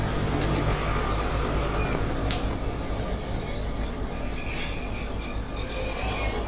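Train wheels rolling and squealing along rails in a horror short film, a steady loud rumble throughout with high-pitched screeches flaring up now and then, no voices over it.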